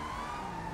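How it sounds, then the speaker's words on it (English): Police car sirens wailing in a GTA 5 roleplay session, a steady continuous tone held throughout the short moment, fairly loud, with no talk over it. "Whose sirens are on?"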